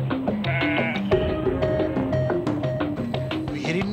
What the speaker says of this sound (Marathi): मेंढ्यांना चारा आणि पाणी शोधत मेंढपाळ पायपीट करतायत